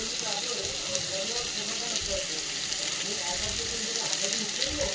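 Spices are tipped into a pan where a vegetable kofta curry base with tomatoes fries in oil. The sizzle is dense and steady at close range, with faint voice sounds in the background.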